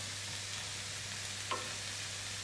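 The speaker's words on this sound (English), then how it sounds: "You hear it? So you got to keep an eye on that. If it starts getting really vicious, that means it's getting too hot." Breaded chicken frying in a pan, a quiet, even sizzling hiss over a steady low hum, with one brief click near the middle and no voices.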